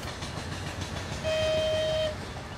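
A train on the Gazprom railway across the Siberian tundra rumbles steadily at a distance, with a sustained whistle or horn tone sounding for about a second midway through.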